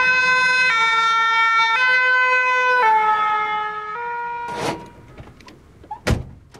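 A French fire engine siren sounds loud and close, its two-tone wail stepping steadily between high and low pitches for about four seconds. It then stops, followed by a couple of sharp knocks.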